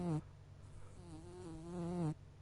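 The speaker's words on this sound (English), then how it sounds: "buzzing flies floated nearby" A swarm of flies drones in a vampire visual novel game: one buzz cuts off sharply, then another swells slowly and stops abruptly, close and clear, no talking.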